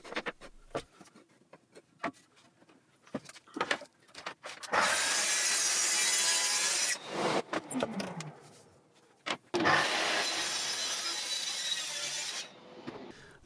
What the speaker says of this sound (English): balancing the rail on offcuts to make that tricky second cut